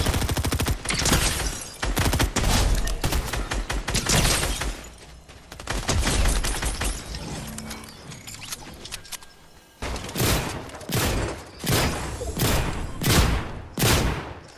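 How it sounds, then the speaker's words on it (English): Rapid gunfire from computer-controlled characters in Fortnite rattles in dense bursts and volleys, loud and nearly continuous with a brief lull before sharper, spaced shots near the end. "Wait, why are they shooting? I'm not shooting. It's the stupid NPC."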